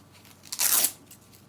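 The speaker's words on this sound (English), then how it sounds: "Wow, it's a hefty amount of Velcro." Velcro ripping apart on a camo double pistol magazine pouch, one short loud tearing rasp lasting about a third of a second amid quiet.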